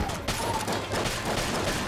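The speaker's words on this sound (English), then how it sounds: "Oh, the t-shirt cannon doesn't have much ammo." Rapid gunfire bursts from a t-shirt cannon in the video game Enter the Gungeon, a dense, loud volley of overlapping shots with game effects for about two seconds.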